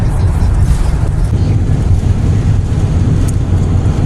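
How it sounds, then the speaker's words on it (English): Loud, constant wind buffets the microphone with a heavy low roar and rumble, steady throughout with no pauses. "It's definitely windy enough out here for these things."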